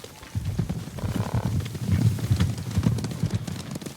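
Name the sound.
horses approaching in video game Ghost of Tsushima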